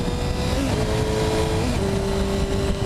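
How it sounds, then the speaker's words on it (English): A four-cylinder 250cc motorcycle engine runs at full throttle, a loud, steady high-pitched drone whose tone shifts slightly partway through, close and continuous with no voices. "I'm full throttling it right now."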